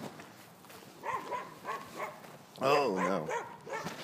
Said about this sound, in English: Watch out for those dogs.